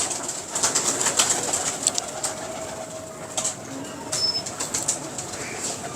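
Several Lahore pigeons cooing nearby, their low calls broken by quick bursts of wing flapping and faint rustling, with steady background hum and no speech.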